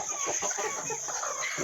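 Broody free-range village hens settled in a coop give soft, repeated low clucks and murmurs, close by and continuous, with no talking.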